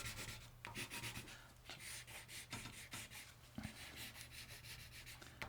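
Pencil scratching across paper while drawing an illustration, a close, dry rubbing with irregular strokes and short pauses, some taps and scrapes, alone with no talk.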